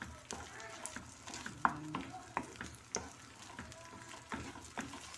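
Food frying in a pan, stirred by hand, with a soft background sizzle broken by scattered scraping and clinking strokes of the utensil against the pan, quiet and close.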